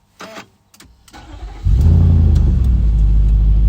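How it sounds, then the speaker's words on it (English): A Nissan Patrol Y62 engine cranks briefly, catches, and settles into a loud, steady idle, close by, with a few clicks beforehand. "if I start the car"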